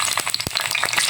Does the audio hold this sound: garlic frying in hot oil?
yes